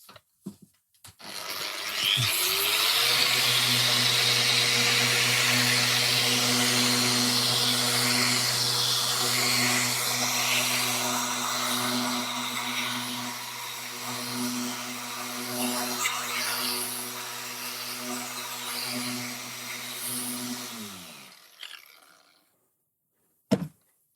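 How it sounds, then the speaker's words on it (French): VEVOR random orbital sander on maximum speed in finishing mode, sanding bare wood with 120 grit: a steady loud motor whine with a rough abrasive hiss, running continuously for about twenty seconds before spinning down, no talk. "Et maintenant, on ponce."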